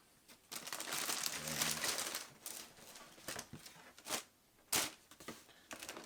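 Close, soft crinkling and rustling of Air Jordan shoebox tissue paper in several bursts, with a few sharper crackles and quiet gaps between handling.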